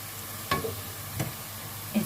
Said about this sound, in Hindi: प्याज को फ्राई कर लेंगे